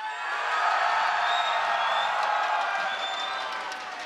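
Live esports tournament crowd for a CLG EU versus World Elite match, cheering and whooping in a steady broad roar with scattered clapping, swelling and then easing slightly over a few seconds.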